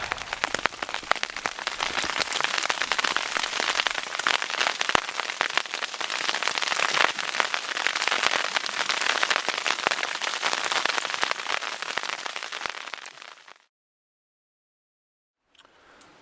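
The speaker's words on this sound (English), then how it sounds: "the rain is just starting now" Steady rain falls hard and loud on outdoor surfaces, a dense continuous patter that runs unbroken before cutting off abruptly near the end.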